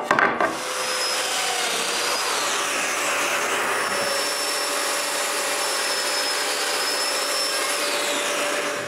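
A power drill bores mortises into wood with a loud, steady whine and grinding of the bit through the timber, running continuously, close and without speech.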